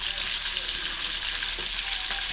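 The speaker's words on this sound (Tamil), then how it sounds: "இப்போது நறுக்கின தக்காளியை போடுவோம்." Chopped tomatoes fry in a pan with shallots, garlic and ginger, giving off a continuous, dense, hissing sizzle at close range with occasional faint stirring scrapes and no talking.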